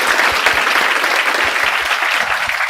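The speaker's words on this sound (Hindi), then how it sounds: "एक बार ताली बजा दे कौस्तुभ सर को" Steady, dense applause from an audience of students in a coaching class lecture hall, sustained and loud for the whole stretch with no speech over it, many hands clapping at once as a continuous wash.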